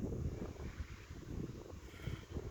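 Strong wind blusters outdoors in a natural setting, buffeting the microphone with continuous low rumbling gusts throughout, loud and unbroken, with no voices.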